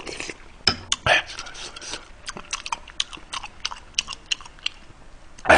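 Spicy pig's trotters (jokbal) being eaten up close, with repeated wet chewing and biting sounds, occasional crunches and light clinks of cutlery or dishes, and brief bursts of louder noise at the start and end.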